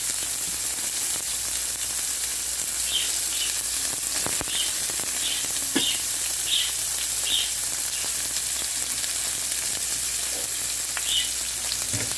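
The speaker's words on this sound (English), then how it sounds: "Okay, next I'll have to add my chopped onions here." Chopped onions fry in a pan with a steady, even sizzle that runs the whole time, with faint scattered pops and scrapes and no talking.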